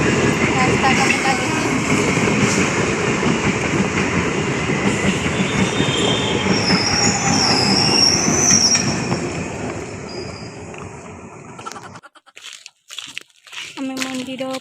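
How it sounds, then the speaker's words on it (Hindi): A train passes close by near a temple in Baripada: a loud, continuous rolling rumble and clatter of the wagons with a high squeal of wheels. The noise cuts off abruptly toward the end, and someone starts talking after it. "ट्रेन आसीगला एबे ट्रेन आसला"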